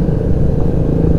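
Heavy traffic jam on Vietnam's QL20 highway, with motorbike and vehicle engines rumbling and idling loudly up close in a continuous low drone.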